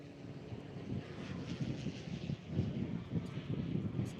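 A large, high-horsepower STOL aircraft makes a short takeoff at a Rocky Mountain competition, its steady engine drone and propeller roar rumbling low amid gusty wind noise.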